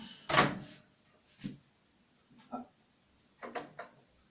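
The door of a Panasonic NN-GT35HB microwave oven opens with a sharp latch clunk, followed by several softer knocks and rattles spread over a few seconds in a quiet room.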